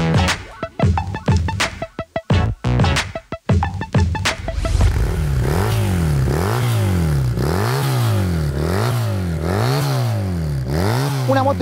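A 1981 Honda CB400T Hawk motorcycle engine starts with sharp clattering bursts, then revs repeatedly in a steady rising-and-falling rhythm, loud and close with no talk.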